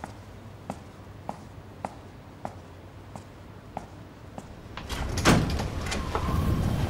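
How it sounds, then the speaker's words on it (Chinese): A door is opened at night: a series of evenly spaced sharp clicks or taps precedes a louder rattling clunk and swish as the door moves, followed by a steady background hiss. "知道我要来帮我开门"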